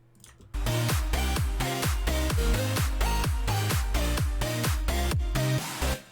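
A steady electronic music track with a pounding kick on every beat and a wash of ambient texture underneath, loud and continuous.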